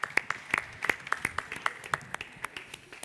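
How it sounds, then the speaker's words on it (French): A sparse group at a mock tribunal event on future generations applauds the jurors: a few scattered, individually distinct hand claps, light and fairly quiet, spaced irregularly rather than forming a full ovation. "On peut les applaudir, s'il vous plaît,"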